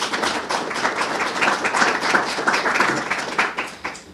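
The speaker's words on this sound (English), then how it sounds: "So let's give her a big round of applause for all that she does." Audience applause at a public policy event on college-in-prison programs in New York State, a dense steady wash of many hands clapping that stays loud for the whole stretch with no talk over it.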